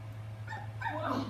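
A puppy whimpers and yips in short, high whines over a steady low electronic hum, in the video game Minecraft: Story Mode.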